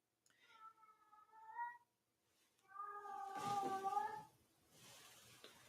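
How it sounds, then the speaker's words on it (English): A cat meows twice nearby, two drawn-out tonal cries separated by a short pause, the second longer and louder, followed by faint room noise. "y'all hear that cat?"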